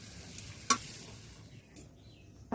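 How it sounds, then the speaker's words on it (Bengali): Dry leaves being stirred as they fry in a hot pan until crisp, giving a soft continuous sizzle with a few sharper scraping bursts and clatters, heard up close with no one talking. "একদম নেড়ে নেড়ে একদম শুকনো করতে হবে।"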